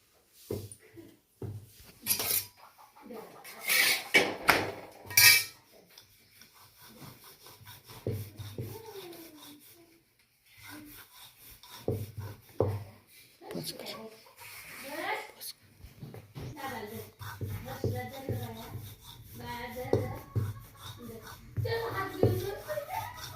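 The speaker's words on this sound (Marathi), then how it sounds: "आता आपण लाटून घेणार आहे" A rolling pin works chapati dough stuffed with puran on a kitchen surface, giving repeated soft rubbing and rolling strokes in an irregular rhythm, close by, with a few louder knocks near the start and quiet background sounds between.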